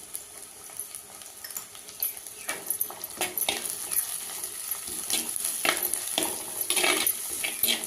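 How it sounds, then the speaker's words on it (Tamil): Onion, garlic, green chilies and curry leaves sautéing in a pan for a pumpkin kuzhambu, with steady close sizzling, spatula stirring scrapes and clatters against the pan throughout, no talking. "வெங்காயம் கொஞ்சம் வதங்கட்டுங்க."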